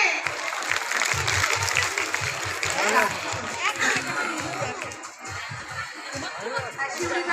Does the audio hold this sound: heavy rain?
no